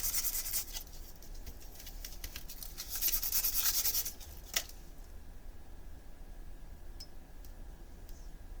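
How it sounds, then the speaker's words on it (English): Plastic knives are rubbed with sandpaper in brisk scratchy strokes for about four seconds, growing louder, then a single knock, followed by near silence with faint ticks. "Let's just give it a sand."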